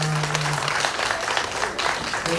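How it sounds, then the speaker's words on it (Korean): Church congregation applauding to welcome a missionary family at a Sunday service, a steady wash of clapping filling the room throughout, with a faint sustained tone beneath. "우리 큰 박수로 환영하겠습니다."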